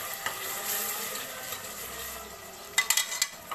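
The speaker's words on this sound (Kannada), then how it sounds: "ಈ ಮಸಾಲೆನ ಕೈಮಾ ಸಾರಿಗೆ ಮಸಾಲೆನ ಹುರಿಬೇಕು" Keema curry masala of garlic and ginger fries in a pan with a soft steady sizzle, joined near the end by a few sharp scraping clinks of a spoon stirring against the metal.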